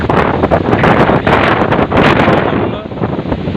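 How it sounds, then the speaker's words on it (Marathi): Strong wind roars and buffets the microphone continuously, rushing in gusts with a rustling texture, easing slightly toward the end. "खूपच वारा चालू आहे हे पहा हे झाड हालतात खूप असा वारा चालू आहे"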